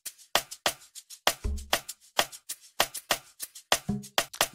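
Drum loop in FL Studio run through a frequency shifter plugin: a steady pattern of sharp, loud percussive hits with a couple of pitched, tonal thumps, played alone with no talk.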